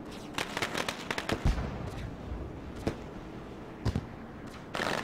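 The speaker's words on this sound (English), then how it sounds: "Fireworks sounding, and there is a very happy number 6 of Joe Schaefer Jr." Fireworks at a short track after a late model stock car race, with rapid crackling pops and sharper bangs over a steady crowd and ambient roar, heard at a middle distance.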